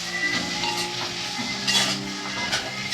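Ridge gourd curry with coriander powder stirred in a pan, soft scraping and light clinks of a utensil against cookware over a faint sizzle.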